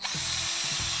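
An underwater hammer drill from Nemo Power Tools, running forward, whirs briefly at close range, a short burst of motor whine with small shifts in pitch.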